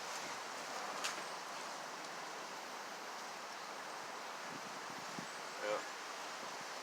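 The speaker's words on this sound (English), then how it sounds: "that wind's really picking up" Wind blows outdoors as a steady, broad rushing hiss that holds without a break, with a few faint knocks and rustles in it and one brief word spoken over it.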